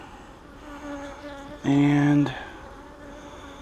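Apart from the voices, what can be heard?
bees buzzing in hive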